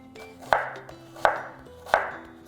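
A knife cuts through an onion onto a board with three evenly spaced, crisp chops about two-thirds of a second apart, close and alone with no talking.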